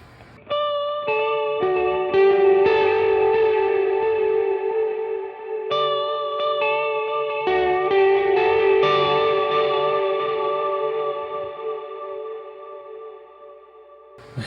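A clean electric guitar run through an HX Stomp with pitch vibrato and dimension modulation plays a few sustained chords in turn, each ringing out with a wavering shimmer and a lush, spacious wash, with no voices.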